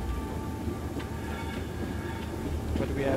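A train rolls along a dark track in the video game Blair Witch, a steady low rumble with faint rhythmic clicks and squeaks, continuous and fairly close.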